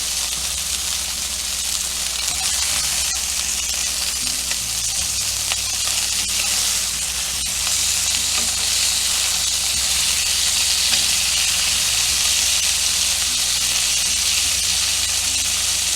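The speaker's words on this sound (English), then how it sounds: "Especially hear that sizzle." Steady, loud sizzling of seasoned chicken tenders frying in a hot pan, a continuous hissing crackle with no voices.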